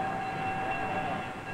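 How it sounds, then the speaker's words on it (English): A 1950s passenger train, assembled with its cars, gives a steady rumbling rail hum with a sustained whistle-like tone over it, close and continuous for about a second and a half. "Here's Bob's train all put together, ready for the passengers"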